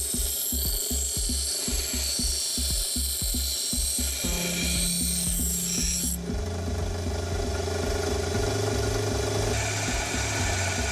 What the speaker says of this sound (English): Now we will sand the cutoff point.